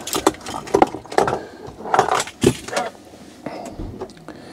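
A car key going into the ignition of a camper, with several metallic jangling clicks and scrapes up close, loud bursts spread across the clip with brief pauses between them.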